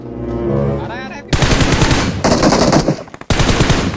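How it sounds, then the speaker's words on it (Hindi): Loud bursts of automatic gunfire in a mobile shooter game, rapid machine-gun volleys that start abruptly after a voice, break off briefly, then resume at close range. "अब आपने सुना होगा सामने से फायरिंग फूरिंग की आवाज आ रही है"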